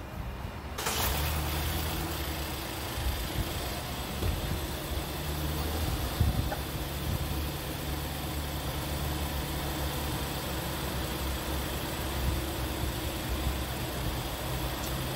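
Steady low engine rumble running continuously after a brief quiet start, a car engine idling close by during a power balance test, with an even, droning tone.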